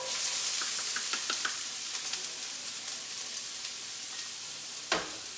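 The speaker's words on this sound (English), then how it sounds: "Then I'm going to add my cup of onions." A cup of onions drops into hot, shiny oil in a pan and sizzles steadily, with light stirring clicks and one sharp clatter near the end, close and fairly quiet.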